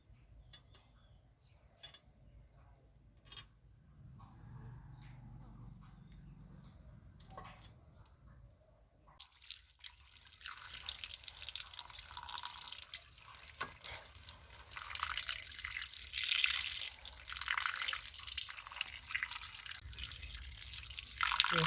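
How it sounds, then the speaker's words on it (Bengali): Water drips and trickles while fish are washed, faint at first and then a louder, hissy running flow in the second half, with no talk. "মাছের আঁশগুলো ছাড়িয়ে নিয়ে আমি মাছটা ধুয়ে নিই"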